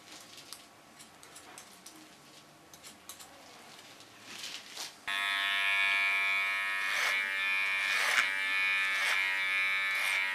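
An electric hair clipper cuts a short pixie haircut along a baseline, switching on halfway through as a close, steady high buzz after quiet snipping and handling sounds.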